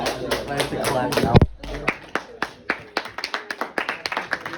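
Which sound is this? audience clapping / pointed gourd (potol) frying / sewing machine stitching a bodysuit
audience clapping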